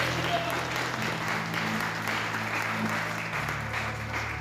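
A church congregation applauding during a sermon, a steady broad wash of clapping that holds for several seconds, with a sustained low musical drone underneath.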